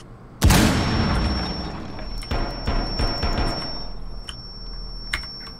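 Shotgun blasts in the tactical shooter Rainbow Six Siege: one sharp, loud shot opens the clip, then a run of quicker, quieter shots and impacts follows over room ambience, with a faint voice in the background.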